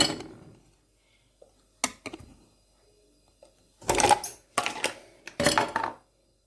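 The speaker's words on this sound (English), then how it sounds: "Some ice will go in there. You see the ice is going in there." Ice cubes dropping into a glass jar while making iced coffee at home, heard as a few separate clinking, rattling bursts near the microphone, with quiet pauses between them.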